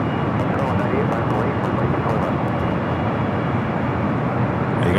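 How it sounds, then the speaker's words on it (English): British Airways Boeing 747 touching down on the south side at LAX, a loud, continuous engine and rushing roar without a break, with a voice speaking at times. "Speedbird just touching down here on the south side."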